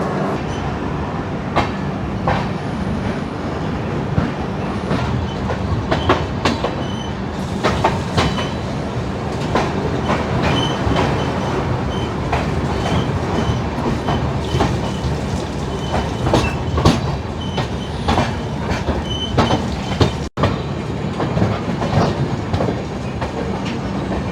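A local train from Khurda Road to Puri runs at high speed, its steady rumble and rhythmic clickety-clack of wheels on rail joints continuing loud and unbroken throughout, with occasional sharper metallic clanks.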